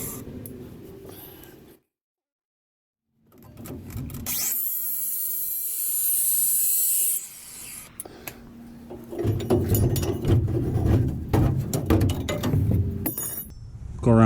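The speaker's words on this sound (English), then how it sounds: "we're going to do is just cut this other one on all four sides" Corroded U-bolts on a leaf spring are cut off with a power tool: a high-pitched grinding whine runs for a few seconds, followed by clanking and scraping of metal parts.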